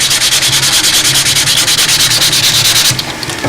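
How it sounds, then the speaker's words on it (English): Folded sandpaper rubbed back and forth to collect dust for filling a crack in model aircraft cowl work, a fast, even rasping rhythm of close strokes that stops near the end. "Bend up a piece of sandpaper and just let the dust build up in the middle."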